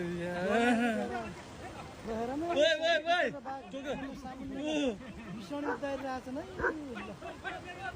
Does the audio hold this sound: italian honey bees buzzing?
no